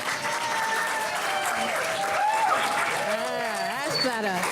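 Audience applause at a panel discussion on race and resistance carries on under a voice speaking over it, the clapping dense and even throughout.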